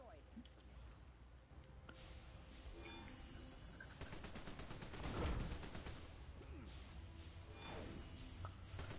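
Minigun fire in the DC Universe Online superhero game: rapid mechanical bursts of rattling shots, densest and loudest in the middle, among other combat effects and a talking voice.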